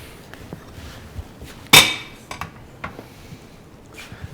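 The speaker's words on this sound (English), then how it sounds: "Mix those in real good." Caesar salad ingredients tossed together in a bowl, with one sharp clatter of utensil against the bowl followed by several lighter clinks and scrapes spread over a few seconds, close and moderately loud.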